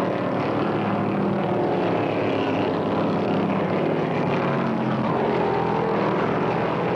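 Several stock cars roar past in the 1971 NASCAR Michigan 400, a loud continuous engine drone with a dense, steady high-speed racing roar throughout and no voices.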